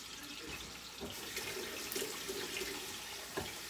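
Tap water runs steadily into a sink or pot, a continuous hiss with small splashes, fairly close, while cooking an Instant Pot pot roast, with no talking over it.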